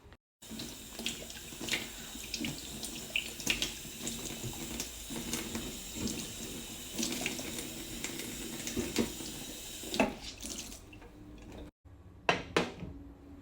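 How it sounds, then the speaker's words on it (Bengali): Running tap water while a kitchen stove is washed down after cooking, a continuous close splashing stream with light clinks of dishes and utensils, briefly stopping and starting again near the end. "এখন আমি চুলাটা ক্লিন করে নিচ্ছি, কারণ এটা আমার প্রতিদিনই করতে হয়।"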